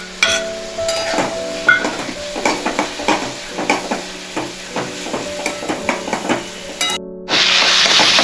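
Onion frying with ginger-chili paste in a pan, a steady sizzle broken by repeated stirring scrapes and taps, close and continuous, ending in a sudden louder burst of hiss.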